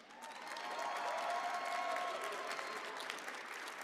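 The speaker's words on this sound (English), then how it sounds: "Another huge round of applause and congratulations to all of our players." A crowd claps at a Dragon Ball Legends tournament final, the applause swelling quickly and staying dense and steady, heard from some distance and fairly faint.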